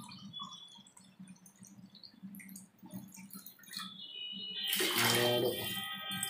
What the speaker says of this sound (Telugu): ఇప్పుడు మనం వాటర్ యాడ్ చేసుకుందాం.